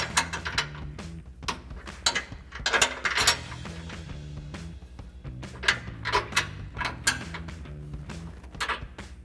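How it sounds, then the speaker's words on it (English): A ratchet wrench with a 19mm socket tightens a locking nut while a grille guard is installed on a RAM 1500 pickup. Close, irregular bursts of ratcheting clicks come in several runs, with a steady mechanical hum underneath and no talking. "you can use a shorter 19mm socket to get in there. And if you need to, you can finish it up with a wrench"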